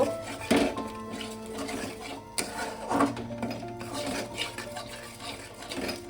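Chana masala spices sizzle with a splash of water as they are stir-fried in a pan, with irregular scraping and clinking of a spatula against metal over a steady low bubbling, close and moderately loud.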